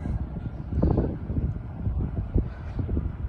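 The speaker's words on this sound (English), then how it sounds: "A little windy out today." Wind gusts outdoors beside tennis courts and a playground, a steady low rumble of buffeting against the microphone with stronger surges, no voices.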